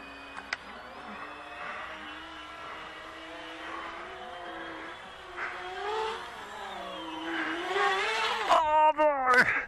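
A foamboard VTOL tail-sitter model aircraft flies overhead, its electric motor giving a thin whine that rises and falls as it maneuvers. The whine swells louder near the end, followed by a few sharp bumps, with a faint voice in the background.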